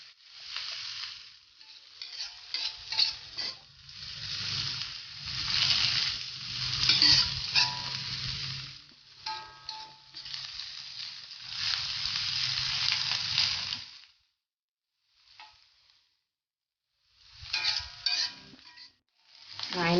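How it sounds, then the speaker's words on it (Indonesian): Scallions sizzle and fry in hot oil for Korean egg fried rice, a loud crackling hiss with stirring scrapes, broken by a short quiet pause near the end. "Kita goreng daun bawangnya sampai harum ya."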